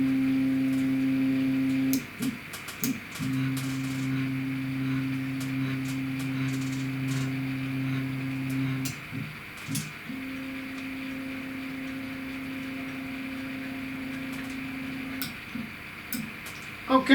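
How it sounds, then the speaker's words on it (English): A CNC machine homing its axes under Mach 3 control, steady tonal stepper-motor whines that stop and restart in separate moves, with brief clicks between segments. "Okay, so now we will home our machine."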